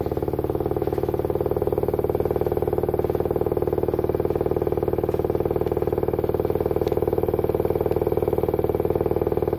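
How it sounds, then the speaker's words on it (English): Steady hum and whir of spinning magnets driving liquid gallium into a vortex, a constant mechanical drone with a faint regular pulse, unbroken and moderately loud. "Liquid gallium swirling as a vortex over these spinning NS magnets."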